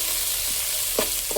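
Sliced onions, shahi jeera, bay leaf and biryani masala fry in hot oil with a constant close sizzle, while a spoon stirs them with a couple of soft scrapes.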